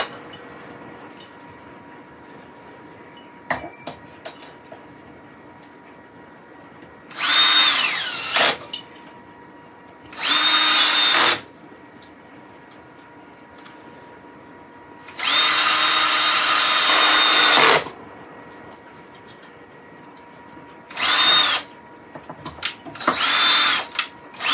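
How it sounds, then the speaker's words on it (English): A cordless drill whirs in several separate bursts, some short and one long, as screws are driven into wood with the torque setting on, with quiet pauses between runs. "torque working on my drill"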